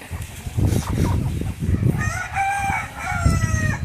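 Bhimavaram breed chickens on a farm; a rooster gives a drawn-out crow partway through, layered over nearby low clucking and rustling, fairly close and without talk.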